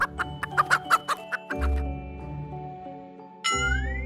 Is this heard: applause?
no